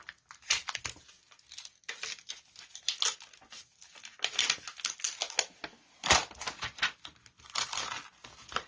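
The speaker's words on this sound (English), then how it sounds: "if I peel that off there" Backing being peeled off a foiled butterfly sheet for mixed media crafting, heard as close, crackly crinkling and tearing rustles in irregular bursts with louder peaks, no voices.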